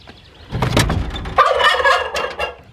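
Turkeys in a chicken coop gobble loudly and close by, with two rapid, rattling bursts, one right after the other, and no talk over them.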